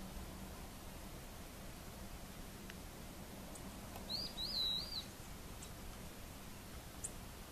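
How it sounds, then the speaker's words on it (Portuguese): A brief bird call, a short run of chirps, rises once over a steady hiss of outdoor background noise in a jungle-like setting; faint and distant, no talking. "Alguém conhece esse pássaro?"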